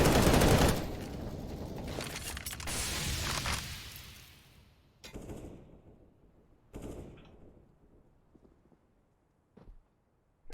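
Gunfire in a Counter-Strike match on Dust 2, a dense loud burst of shots at first, then a few isolated sharp reports that fade into near silence.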